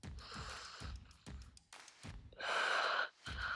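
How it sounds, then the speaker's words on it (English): Breathing during a kettlebell workout cool-down: a series of short, close breaths followed by one big, long exhale out of the mouth, followed by another breath. "Big long exhale out of the mouth"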